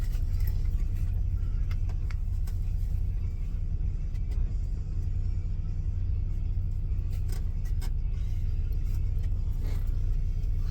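A 2023 pickup truck with an automatic transmission idles nearby, giving a steady, continuous low engine rumble with small clicks and rattles on top, and no talking.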